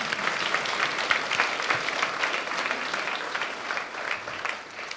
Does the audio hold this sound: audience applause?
yes